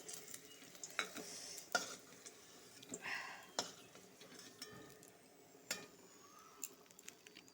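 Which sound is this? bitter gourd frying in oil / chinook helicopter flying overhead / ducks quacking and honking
bitter gourd frying in oil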